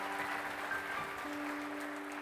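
A church congregation claps in a brief, moderately faint round of applause. A sustained tone runs underneath, and there is no speech.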